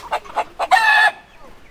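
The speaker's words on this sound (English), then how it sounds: "What are all these chickens doing in here?" Chickens in a tree in Costa Rica, a few close clucks followed by a loud rooster crow about a second long, then quieter clucking.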